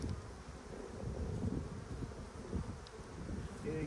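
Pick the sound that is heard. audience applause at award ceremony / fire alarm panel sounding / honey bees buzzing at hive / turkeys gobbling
honey bees buzzing at hive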